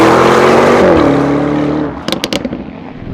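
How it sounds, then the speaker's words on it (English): A black Lamborghini Urus S SUV with Novitec Esteso widebody kit roars loudly under acceleration, engine pitch climbing then falling, followed by a rapid string of sharp exhaust pops and crackles. "what it sounds like to drive this absolute beast of a car that's actually freaking fast"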